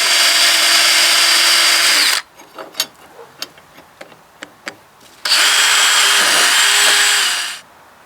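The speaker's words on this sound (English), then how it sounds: "So I drilled it out like that" A power drill whines loudly and continuously while drilling a hole to mount a 1971 Johnson 20 HP outboard motor, then pauses for a series of sharp knocks and clicks before a second long, loud drilling run.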